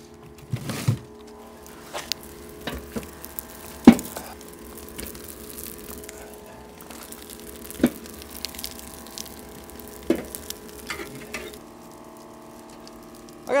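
Maple sap boiling in an evaporator for syrup, a steady low bubbling hiss with occasional soft knocks and pops, fairly faint and continuous with no voices.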